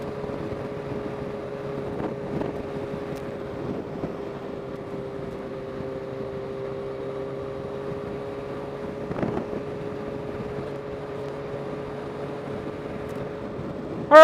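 A rented Suzuki Gixxer motorcycle rides along the I-87 highway toward Albany, holding a steady, even engine drone under faint wind rush with one slight swell near the end.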